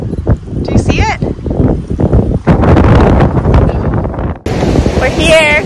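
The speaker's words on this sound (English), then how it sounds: "It is windy as fuck! The waves are super turbulent!" Strong wind buffets the microphone at Diamond Beach, Iceland, with rough, turbulent surf crashing nearby in a constant roar, while people shout and talk over it.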